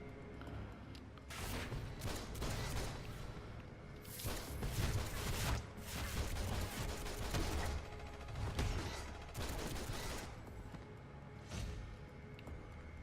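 Full-auto gunfire in DC Universe Online, with Red Hood shooting dual pistols: dense, rapid bursts of shots and booming impacts that run almost without a pause, loud and close.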